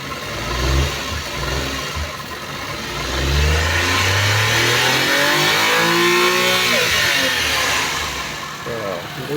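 Suzuki van engine, a DA64 or DA17 model, revving up and holding high before easing off during a low-power check, loud and close with a deep rising tone and no one talking.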